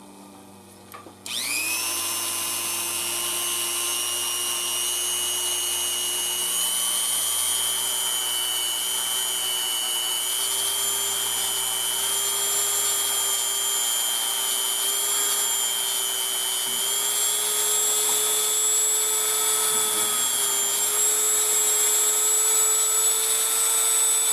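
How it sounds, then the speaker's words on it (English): A Dremel rotary tool polishing an 1851 Navy single-action revolver spins up with a sharp start, then holds a loud, steady high-pitched whine for over twenty seconds, its pitch drifting slightly as pressure changes. "We're going to do a little bit of a polishing job on here with the Dremel"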